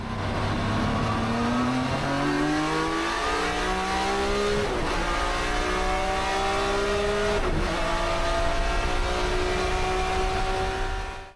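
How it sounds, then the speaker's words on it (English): A 1993 BMW M3 E36 GTR race car with straight-cut gears runs flat out, its loud engine climbing through the revs in rising sweeps with brief dips at each gear change, sustained and close throughout. "Number 4 brings us to the grandfather of straight-cut dominance, the 1993 BMW M3 E36 GTR."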